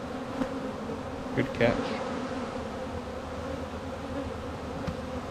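Honeybees hum steadily around an opened hive at a final autumn check in Alaska, a continuous close drone with a few brief louder swells, and a voice speaks briefly over it.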